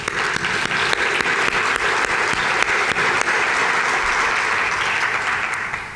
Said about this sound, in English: So, double applause for the anniversary and the undisputable reputation.